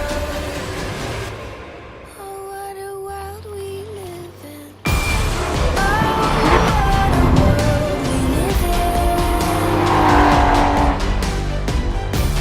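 A Porsche Boxster Cup race car lapping Anglesey circuit in qualifying, its engine revving up and down through the gears with occasional tire squeal, loud and close, while wind buffeting grows after a sharp cut midway.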